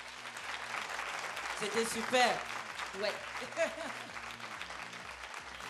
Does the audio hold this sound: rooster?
no